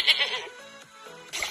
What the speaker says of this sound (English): I see a black sheep looking at me.